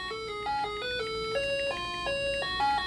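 A loud handheld Tetris game noisemaker meant for the car, playing a stepped electronic beeping melody of clear square-wave tones, each note held briefly in a steady tune, close and alone without talk.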